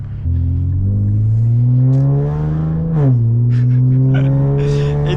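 An Infiniti Q50 accelerating in sport mode, a loud, close engine rising steadily in pitch, dipping briefly at a gear change, then climbing again with a deep droning roar.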